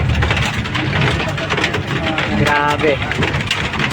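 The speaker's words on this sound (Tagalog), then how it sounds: "Ayan po, umuulan ng yelo." Hailstorm in Bocaue, Bulacan, near the NLEX, with large hailstones: a dense, loud, continuous rattling roar of hail pelting, heard close up while a person speaks over it.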